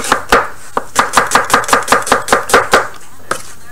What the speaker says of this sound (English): Get this onion cut up for you real quick.